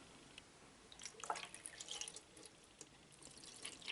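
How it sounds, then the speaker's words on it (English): Alcohol cleaning fluid poured into the trough of a Knosti Disco Antistat record cleaning machine, giving faint, scattered drips and small liquid splashes, quiet and close. "So what you do, you can see down there, you pour the liquid"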